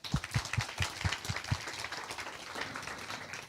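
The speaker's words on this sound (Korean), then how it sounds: "하나님께 감사의 박수 우리 함께 올려드릴까요?" Youth church congregation giving applause of thanks at a service, a moderate spread of many hands clapping at middle distance that fades to a softer, thinning patter toward the end, with no speech.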